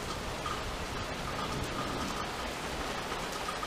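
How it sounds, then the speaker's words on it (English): Heavy rain pours down steadily in an outdoor storm, a dense continuous hiss of drops on surfaces that stays even and close throughout, with no voices. "Oh man, it's really coming down now."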